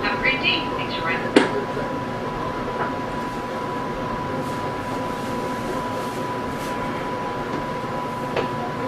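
Rail Runner commuter train pulling into Montaño Station, a steady rumbling hum inside the car with a sharp clank near the start and occasional knocks, while people talk faintly throughout.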